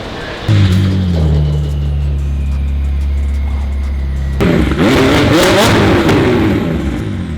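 A McLaren 600LT with a custom exhaust revs loudly up close, a steady throaty drone followed by crisp, crackling bursts on the downshifts.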